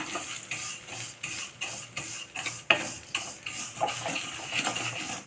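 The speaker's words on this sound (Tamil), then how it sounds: "இப்போது இதை வந்து நல்லா வறுத்துக்கலாம்" Rhythmic stirring and scraping as vermicelli is roasted in a pan, with a faint sizzle underneath, a utensil clinking against metal in regular strokes.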